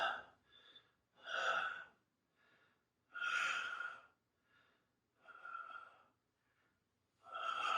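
Heavy breathing during a handstand exercise, with a series of loud, forceful breaths in uneven bursts, close and alone, separated by quieter gaps.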